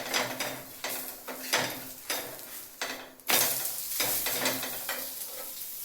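A thalipeeth flatbread roasts on a pan with a steady, close sizzle, broken by a sharp scrape and clatter about midway as it is flipped, after which the frying continues slightly louder. No one speaks.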